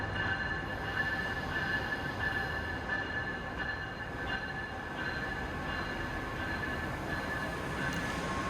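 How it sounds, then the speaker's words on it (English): Brightline train at the future Orlando station platforms, a steady rumbling rolling noise with faint high wheel squeal, moderately distant and continuous throughout. "This enabled the first train to visit the platforms at the future Orlando station in May."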